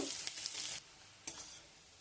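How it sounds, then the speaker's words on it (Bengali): Sliced onion frying in hot oil in a pan, a steady sizzle with a few brief stirring scrapes, fading quieter after the first moment and flaring briefly again. "পেঁয়াজটাকে তেলের মধ্যে দিয়ে দিলাম। পেঁয়াজটাকে দিয়ে একটু নাড়াচাড়া করব।"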